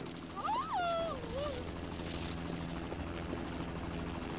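A helicopter flies in the video game Spider-Man 2 (2004), its steady rotor and engine drone running throughout while a player's voice and sweeping game sound effects rise and fall over it.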